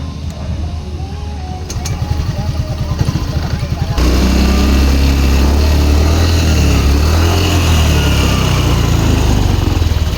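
A Yamaha Fazzio 125 motor scooter with a new LiFePO4 battery starts at once, about four seconds in, and its small engine settles into a loud, steady idle close by, with voices murmuring around it.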